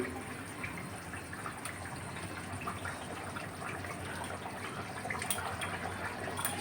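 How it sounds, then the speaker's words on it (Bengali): Gravy water for rohu fish dopiaza boils hard in a pan, a continuous close bubbling and gushing liquid texture with no pause. "দেখো বন্ধুরা জলটা টকবক করে ফুটে গেছে"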